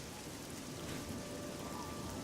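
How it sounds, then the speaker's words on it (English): Steady, even rainfall from the video game Oblivion makes a soft, continuous hiss of drops without any pauses, fairly faint and spread evenly throughout. "These rain effects are awful. Like, the rain is literally moving with me."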